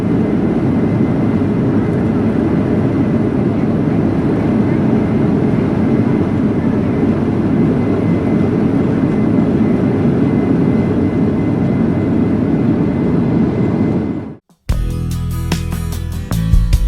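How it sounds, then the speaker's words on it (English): A loud, steady jet engine roar fills the air as a passenger airliner takes off, building into a sustained rumble before cutting off abruptly near the end. "Finally, it was our turn to take off."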